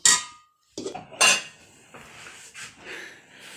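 Dishes and cutlery being collected and washed after a home meal, with clattering clinks of plates and utensils in short separate bursts, close by and fairly loud, with quieter handling sounds between them.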